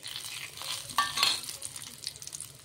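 Mustard seeds, cumin, dry red chillies and curry leaves hit hot oil for a tempering, making a brief, quiet crackling sizzle with a couple of sharper pops and light stirring.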